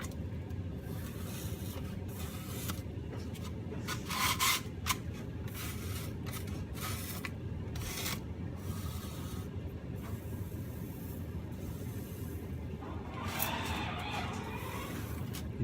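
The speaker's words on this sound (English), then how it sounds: "get some imperfections in the stone by just kind of non-uniformly scratching and divoting and putting in different holes and stuff in" Foam being scratched and gouged by hand to carve a rough stone texture, giving intermittent close rasping scrapes and rubs in short bursts over a steady background hum.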